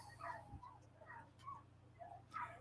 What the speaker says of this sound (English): I can hear the neighbor's dogs? They're going nuts.